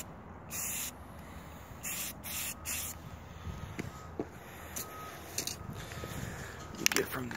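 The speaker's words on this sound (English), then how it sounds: "I like to use rusty metal primer and just spray it." A spray can of rusty metal primer being applied to a spring fires in several short hissing bursts of varying length, a quiet workshop ambience between them and small handling clicks near the end.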